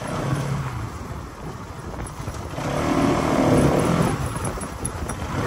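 A motorcycle ridden on a holiday trip along a rough road toward Hudikot, its engine droning low and steady under heavy wind buffeting, swelling slightly louder midway through.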